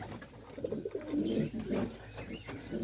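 Pigeons cooing inside a loft among new pairs and nests with eggs, giving repeated low, throaty coos from several birds close by over soft background noise.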